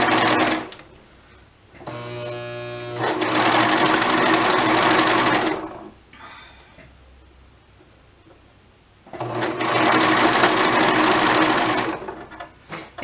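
A serger runs in two long loud bursts over fabric with a slow pause between, the machine rattling and shaking on a springy, bouncy table.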